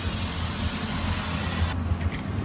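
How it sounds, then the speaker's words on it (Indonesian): An airbrush sprays yellow candy tone paint with a steady, close hiss that cuts off near the end, leaving a low hum and faint taps. "semprot dengan candy tone kuning"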